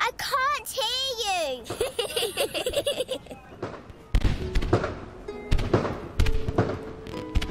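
Cartoon fireworks for Diwali go off in a series of loud pops, bangs and crackling bursts after a child's excited speech, with several sharp cracks spaced over the last seconds.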